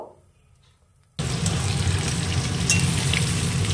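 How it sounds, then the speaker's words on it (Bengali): Potatoes frying in oil for a home-cooked meal: after a near-silent opening, a loud, steady sizzle bursts in and holds, with no talking. "আলুটা একটু লাল লাল করে ভেজে নেব"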